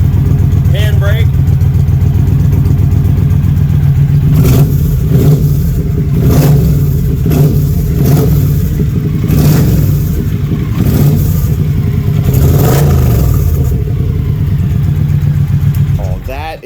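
A 2014 Triumph Thunderbird LT cruiser motorcycle engine, loud and close, idling with a deep throb and then blipped through a run of repeated revs, each rising and falling in turn.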